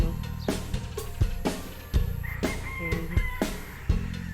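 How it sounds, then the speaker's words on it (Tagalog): Several loud, harsh bird calls ring out in a bustling outdoor scene on a farm, coming in repeated bursts over a steady background hum. "ang dami ibon"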